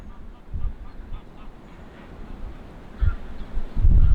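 A few geese honk on a small lake during a winter walk in the Wolds, giving a couple of distant calls and then a louder burst near the end, with wind rumbling in the background.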